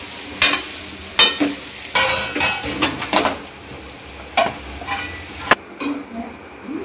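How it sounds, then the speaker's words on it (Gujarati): A spoon stirs patra in a pan over sizzling oil, giving a run of uneven scraping and clacking strokes, close and clear, with a faint fry hiss beneath them. "હવે આપણે બધા પાત્ર આની અંદર ઉમેરી દઈશું, સારી રીતે મિક્સ કરી દઈશું."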